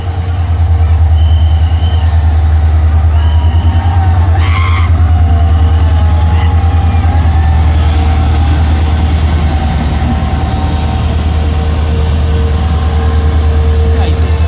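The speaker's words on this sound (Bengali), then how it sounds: "সারং কলকাতা এক্সপ্রেস এসে বসে গেছে" The Kolkata Express rolls into a station with a loud, continuous low rumble of rail cars and wheels, faint squeals above it and an ongoing mechanical drone, while a voice speaks at times.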